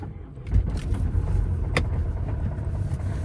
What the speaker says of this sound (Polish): No i wjeżdżamy samochodem.